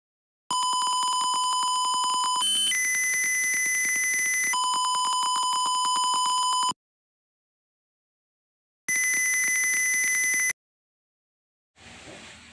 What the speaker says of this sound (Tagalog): every distance has its own buzzer sound and LED color